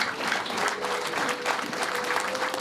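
Steady audience applause at a wedding celebration, a dense continuous patter of many hands clapping throughout, fairly close and even, with no voices standing out.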